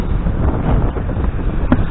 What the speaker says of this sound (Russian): Сейчас вот, конечно, ветер мешает.